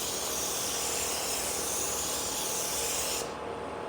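Spray paint hissing steadily from a can onto a flat piece on a table, a continuous close, loud spray that cuts off sharply near the end.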